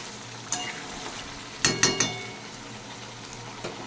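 Masala for aloo dum sizzles in a pan with a soft, continuous crackle, punctuated by a quick cluster of spoon scrapes and clinks against the pot near the middle.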